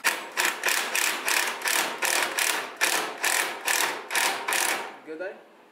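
An impact wrench or air ratchet tightens a bolt on a Honda Civic subframe, giving a loud burst of about a dozen rapid, evenly spaced hammering pulses close by that stops abruptly.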